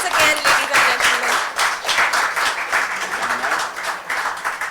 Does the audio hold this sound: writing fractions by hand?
no